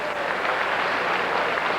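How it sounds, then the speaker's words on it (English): Dense, loud crowd applause fills an MMA fight arena without a break, a steady roar of clapping and cheering. "Big old round of applause"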